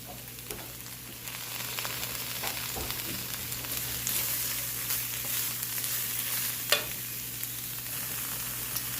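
Peas and carrots stirred into a sizzling mixture in a pan, a steady frying hiss with occasional spoon scrapes and one sharp clink near the end, close and unaccompanied by talk.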